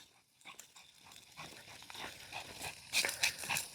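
A frightened dog whimpers and whines in short, faint, high-pitched bursts that grow louder toward the end, with no talking.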